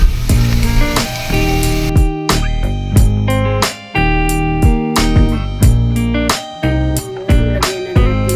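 Onions and soy sauce sizzle steadily in a hot pan alongside ginger, with clattering stirring knocks and ringing tonal sounds over the continuous frying hiss.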